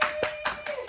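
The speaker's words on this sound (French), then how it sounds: "Applaudissez-moi." A few sharp hand claps sound in quick succession at a small informal birthday gathering, close and moderately loud, with faint voices around them.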